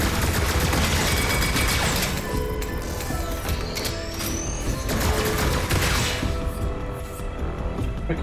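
Sustained gunfire in the Star Wars Galaxy's Edge video game, a dense continuous barrage with mechanical clatter running throughout, loud and close.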